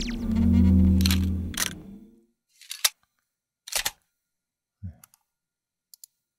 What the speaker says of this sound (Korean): 찰칵 찰칵 하는 소리